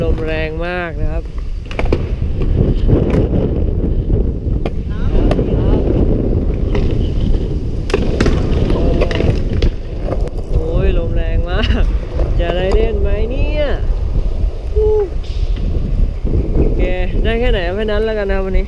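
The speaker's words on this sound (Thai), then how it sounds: "โอ้ลมแรงมากนะครับ" Strong wind buffets the microphone outdoors during skateboard testing, producing a loud, constant low rumble throughout, with someone talking over it at intervals.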